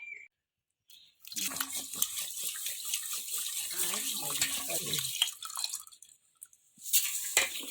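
Water splashes and swishes as horse gram is stirred and rinsed by hand, a busy sloshing stretch followed by a short pause and more splashing.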